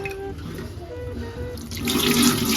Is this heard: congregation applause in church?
no